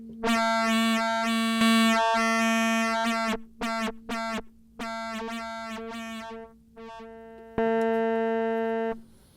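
A buzzy Moog Labyrinth synthesizer with wavefolded filter resonance plays a sequence of sustained notes and short stabs, with a gritty, resonant timbre whose tone sweeps and shifts between notes.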